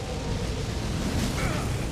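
An ancient dragon's fire attack in Elden Ring, a dense, steady roaring rush of flame that fills the whole moment without breaks, with no clear voice over it.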